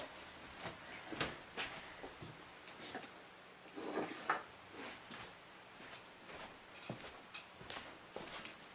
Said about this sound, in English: I just pulled the drawer out of my